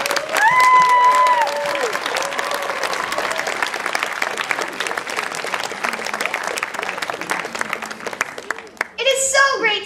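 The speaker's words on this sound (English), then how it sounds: "Let's give a big round of applause for Mr." Big, sustained applause and some cheering from an audience of kids and adults welcoming a Shel Silverstein impersonator, with a brief whistle early on, then a voice starts speaking as the clapping ends.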